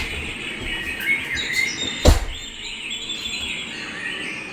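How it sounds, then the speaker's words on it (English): Recorded birdsong played loudly on a constant loop through speakers in a public toilet abroad, heard as a continuous bed of high chirps and trills with a brief thump partway through. "the sound of birds singing, playing very loudly, constantly on a loop, in the toilet"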